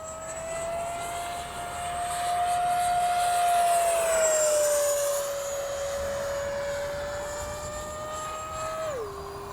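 An H-King Flycat V2 twin-jet RC model airplane flying overhead, with a loud, steady high-pitched turbine whine that swells as it passes close, then slowly fades and drops in pitch at the end.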